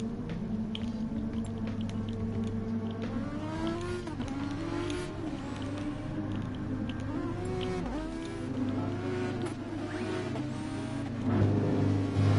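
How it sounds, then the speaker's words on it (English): Super Formula race cars in a racing video game roll out onto the circuit for qualifying, a continuous engine drone with revs rising and falling throughout, no talking. "So the cars making their way out onto the circuit"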